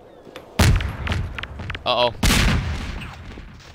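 A grenade blast in the video game Half-Life 2 lands as a sharp, loud boom with a rumbling tail, followed by a second heavy burst a moment later, while a voice speaks briefly between them.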